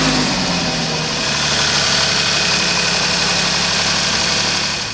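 An Alfa Romeo Giulia QV engine with a newly fitted Forge Motorsport throttle body inlet pipe kit idles steadily, loud and close, with a deep, even hum and no speech.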